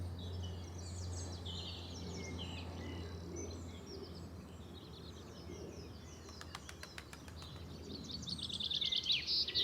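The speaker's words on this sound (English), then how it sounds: "I just heard chaffinch singing" Layered spring birdsong with a chaffinch singing among other birds, chirps and trills overlapping at moderate distance, with a short run of sharp repeated clicks partway through and the chorus growing louder toward the end.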